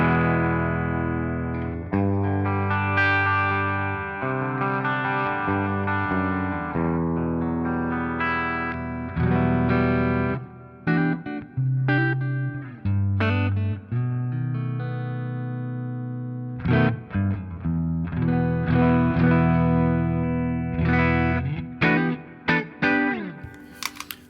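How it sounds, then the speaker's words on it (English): Electric guitar with high-output humbuckers through a Massaad Core Classic overdrive pedal into the clean channel of a Marshall JVM amp, mildly crunchy chords and riffs played continuously with short pauses, close and loud. "this is the sound of the Massaad Core Classic straight into the clean channel of the JVM"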